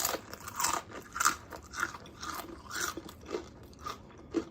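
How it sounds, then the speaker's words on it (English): Pretzel thins dipped in roasted red pepper hummus are bitten and chewed up close, giving a string of crisp, rhythmic crunches over several seconds with no talking. "I have to get that pretzel thin together and let's give it a taste, y'all."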